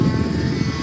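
A remote-controlled model airplane flying at a park festival show in Lahore, a loud, steady droning engine buzz, continuous and fairly close, with no voices.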